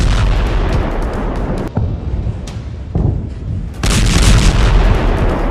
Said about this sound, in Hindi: इनको ऐसे ऐसे बमों से लैस किया गया है जिनसे ऐसे धमाके हो रहे हैं